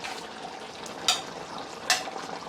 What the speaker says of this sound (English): Some garlic. Let me give it a stir.